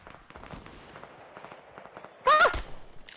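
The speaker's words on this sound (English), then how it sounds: "I'm being shot at." A brief burst of gunfire in the Fortnite battle royale game, a sudden loud crack of shots near the end after quieter footsteps and movement, with a short sharp report following.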